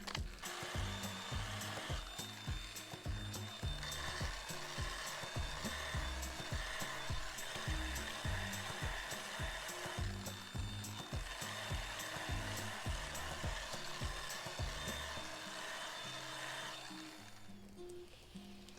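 Surfboard hot coat being sanded with 1000 grit sandpaper, a continuous fairly quiet scratchy rubbing with rhythmic back-and-forth strokes that fades toward the end.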